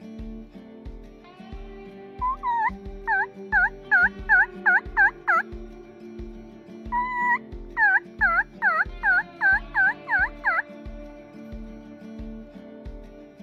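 A wild turkey gobbles repeatedly at close range during a spring bowhunt in the Appalachians, two loud rolling bursts of rapid gobbles over a steady low rumble of background noise.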